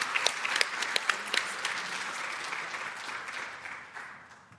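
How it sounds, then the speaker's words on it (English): An audience gives a round of applause for five junior ambassador finalists at a competition event, with dense clapping that starts strong with a few sharp claps and gradually fades out. "I think these ladies all deserve another big round of applause"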